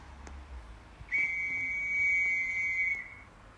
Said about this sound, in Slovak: Píska sa!